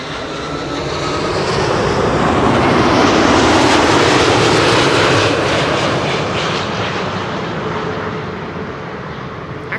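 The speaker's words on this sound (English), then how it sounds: "This is Delta Airlines Flight 144, arriving from Bill J's hometown of Seattle, Washington" Delta Airlines jet airliner on Flight 144 from Seattle, arriving over Schiphol's Kaagbaan runway 06, a loud broad engine roar that swells to a peak mid-pass and then fades, with no talk.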